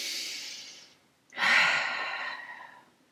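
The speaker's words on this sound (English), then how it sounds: "Take a breath." A single deep breath during an EFT tapping session: an audible airy exhale, a short pause, then a strong, full breath drawn in close to the microphone.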